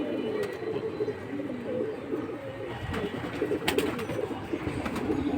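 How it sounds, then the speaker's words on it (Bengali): Pigeons coo and murmur steadily at a busy pigeon market, a flock of doves and pigeons calling close by over a constant crowd hum, with a few sharper clatters near the end. "ভাই এইটা অনেক সুন্দর মাদি বেজি কবুতর।"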